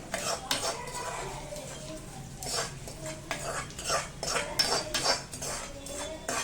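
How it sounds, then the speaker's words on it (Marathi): Sesame chutney is scooped into an ovenproof bowl in a home kitchen, with repeated metal spoon scrapes and clinks against the bowl in an uneven rhythm, close and moderately loud, with no talking. "हे बघा ही चटणी आपण याच्यामध्ये छान काढून घेऊया"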